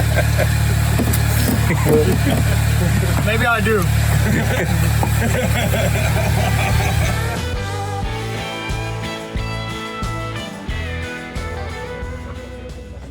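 A rally car engine idles steadily with a low, even drone during a sensor calibration at the Cape Route Rally. It runs under close conversation, then gives way to a busier, choppier mix of sounds.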